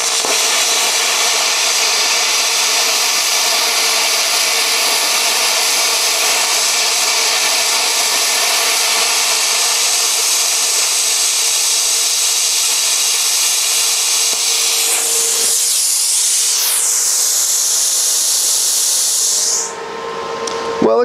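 Plasma cutter slicing through half-inch thick steel, a loud continuous roaring hiss held for about fifteen seconds before it falters and cuts out, with a short burst of air at the end.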